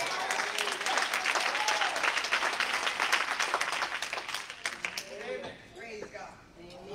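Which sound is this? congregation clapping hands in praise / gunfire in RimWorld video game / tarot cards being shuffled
congregation clapping hands in praise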